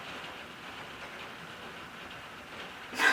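Rain falling outside on a grey, windy day, a soft steady hiss of drops throughout, faint and even, with a short louder rustle at the very end.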